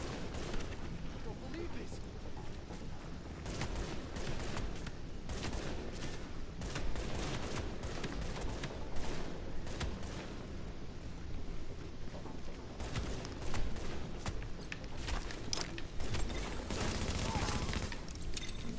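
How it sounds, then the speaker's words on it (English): Pistol gunfire in a video game crackles in rapid, uneven shots throughout, mixed with dense game sounds and someone talking. "Bit better if he wasn't shooting me with just a pistol."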